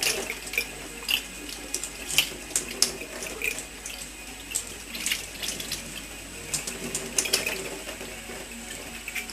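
A homebrew airlock rinsed under running water, with continuous splashing broken by scattered clicks and rattles of handled plastic pieces, close by and without speech.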